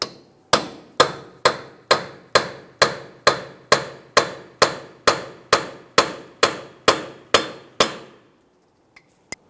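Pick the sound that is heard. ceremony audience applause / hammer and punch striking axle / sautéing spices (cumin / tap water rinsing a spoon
hammer and punch striking axle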